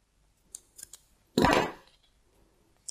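Scissors trimming ribbon for a handmade hair bow, a single close, crisp cut lasting about half a second, with a few faint snips and clicks before and after in an otherwise quiet room.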